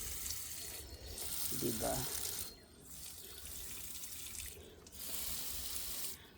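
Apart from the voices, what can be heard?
water running while watering succulent plants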